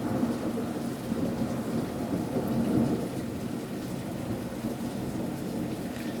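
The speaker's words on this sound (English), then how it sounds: "The hail has stopped now. Now it's rain." Steady heavy rain pours in Cambridge, UK just after a hail storm, with a deep continuous rumble of thunder rolling beneath the dense hiss of falling water.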